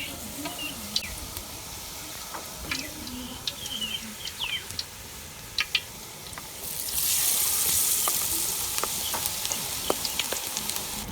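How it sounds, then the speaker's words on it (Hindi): Spinach leaves coated in pakora batter fry in hot oil with a continuous, crackling sizzle that swells louder partway through. Faint birdsong can be heard in the background. "आस्ता आस्ता सारे पत्तों को फ्राई कर लेंगे।"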